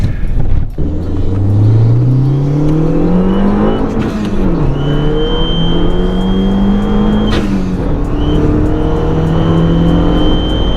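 A Fiat Abarth accelerating on the road, its engine note climbing through the gears with a drop at each shift, loud and close from inside the car, with a faint whistle audible briefly.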